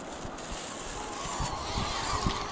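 Seagulls on a beach give a few short honking calls amid a steady breezy outdoor wash, moderately close and fairly faint.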